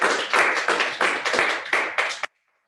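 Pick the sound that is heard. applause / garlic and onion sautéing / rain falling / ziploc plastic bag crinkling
applause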